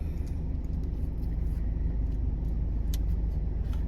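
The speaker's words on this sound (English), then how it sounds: "Truck, you were going just a little bit too fast there." A passing vehicle rumbles steadily at moderate distance, a low continuous drone with no clear peak, running alone without talk.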